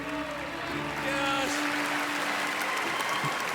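Theater applause at the 76th Primetime Emmy Awards, Peacock Theater in Los Angeles, a steady crowd of clapping hands over a faint held musical tone.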